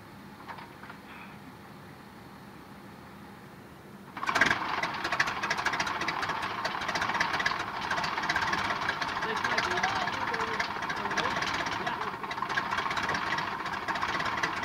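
A yellow Piper Cub's small piston engine catches after a hand prop and settles into a loud, steady, throbbing run with mechanical knocking. Quiet ambience comes first, and voices are heard over the engine.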